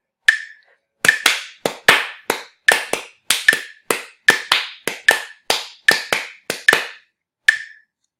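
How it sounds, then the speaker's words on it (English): Sharp hand claps fall syncopated between the quieter ticking beats of a metronome, about a dozen crisp, close claps in an even off-beat pattern against silence. "my hand claps were emphasizing the space in between each of those metronome beats"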